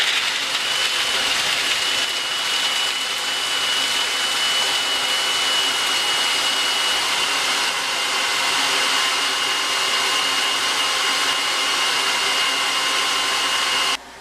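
A food processor purees cashews with date paste for homemade chocolate chip cookie dough bars, giving one loud, continuous whirring roar that holds steady for about fourteen seconds before it cuts off.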